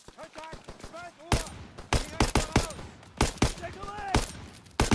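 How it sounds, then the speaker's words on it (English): Bursts of machine gun fire from an MG pillbox in Call of Duty: WWII crack out in rapid, loud volleys mixed with other shots, while voices shout over the fire. "Keep pressure on that MG!"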